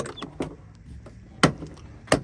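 A car door with a newly adjusted door popper closing in a garage, two sharp latching thumps about a second apart after lighter clicks and handling sounds.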